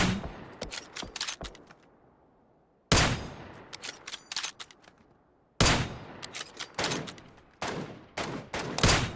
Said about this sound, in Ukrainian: Чуєш, де стріляє оце з ними?